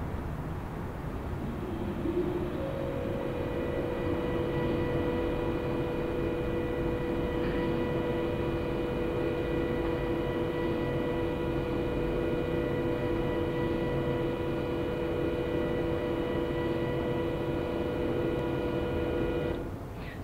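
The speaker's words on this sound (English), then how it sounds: "In fact, it's the sound of erased tape." Erased reel-to-reel tape plays back as a steady, dense hiss and fuzz with a faint low hum and a few thin steady tones, unbroken for the whole stretch.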